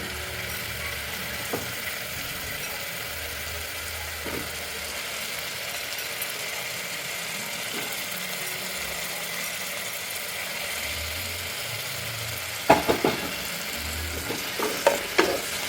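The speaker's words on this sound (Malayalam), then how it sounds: "ഇനി ഇതൊക്കെ ഒന്ന് വഴറ്റി കൊടുക്കാം." Broccoli and cauliflower sautéing on a simmer for chicken soup, a quiet continuous sizzle with low rumbling and a few sharp utensil scrapes and knocks near the end.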